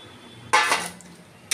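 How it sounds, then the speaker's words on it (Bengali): Water is poured into a hot pan of cucumber and prawn curry with a short, loud splashing hiss of about half a second that quickly fades, followed by a faint clink, close and with no talk. "এবারে আমি জল ঢেলে দিলাম।"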